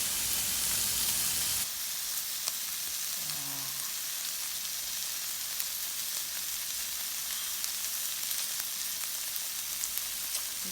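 Shrimp and scallops sear in a hot pan for seafood pasta, a steady broadband sizzle that drops in level after the first second and then continues evenly, with a few faint clinks near the end.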